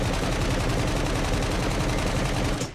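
Rapid continuous automatic weapon fire from the open-world prison game SCUM, a steady dense burst of shots at constant loudness that cuts off abruptly at the end, with no talking.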